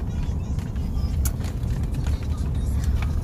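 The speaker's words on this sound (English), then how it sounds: "We're driving further now." A car driving along a road near Maracas, heard from inside as a steady low engine and road rumble with a few faint rattles, continuous and fairly close.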